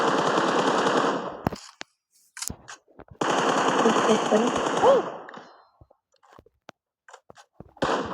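Automatic gunfire in a shooter video game, with long, loud rattling bursts of rapid fire alternating with quiet gaps and a few sharp single shots.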